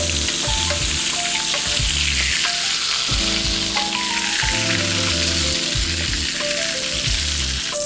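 Sausage sizzling loudly and browning in a pot for red beans and rice, a dense continuous crackle close up with stirring and faint tonal clatter underneath.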